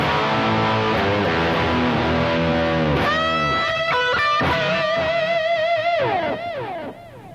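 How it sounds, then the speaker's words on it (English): A loud distorted electric guitar plays a lead line with sustained, bending notes and rapid phrases, ringing out before fading at the end. "The lead tone is that sound with a little bit more distortion."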